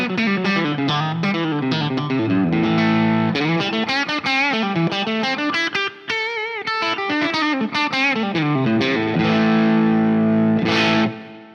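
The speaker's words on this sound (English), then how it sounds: "We're starting to get into that crunchy, bluesy territory." A Les Paul guitar played through a Laney LOUD pedal amp with crunchy, bluesy distortion, loud and close, with sustained chords and bending lead notes that swoop up and down, a brief drop near the middle, then ringing out before cutting off.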